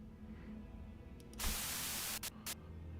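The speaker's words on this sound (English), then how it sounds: "A sudden buzz of white noise breaks through the truck's silence." Harsh white-noise static in the Limbus Company game, set inside a quiet truck, comes in as a loud sudden burst lasting about a second, then cuts out and returns in two short crackling bursts over a low hum.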